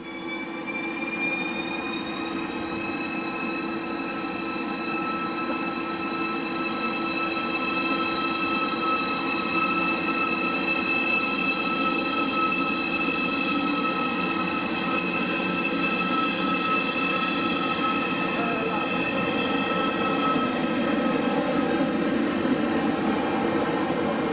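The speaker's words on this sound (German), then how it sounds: "So, der ICE macht sich wieder auf den Weg." An ICE high-speed train pulls away with a loud, sustained rumble and a whine that rises steadily in pitch, while a high metallic wheel squeal rings over the whole stretch.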